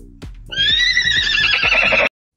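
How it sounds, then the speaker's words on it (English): A loud, shrill horse whinny with a wavering, descending pitch, lasting about a second and a half, heard up close and alone. "Horse."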